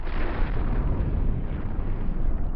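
A loud explosion in the video game Hytale, heard as a sustained, dense roaring rumble with no voices on top.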